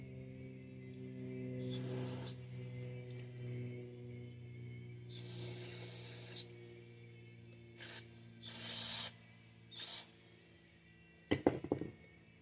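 Several short hissing bursts of spray from an aerosol can, separated by pauses, with a faint hum underneath.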